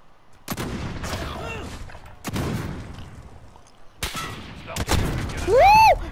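Gunfire in the video game Modern Warfare: several sharp, loud shots at irregular intervals, ending in a rising whooping voice.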